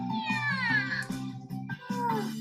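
In the visual novel The Fruit of Grisaia, a cat gives a few clear, drawn-out meows over a looping game music backdrop.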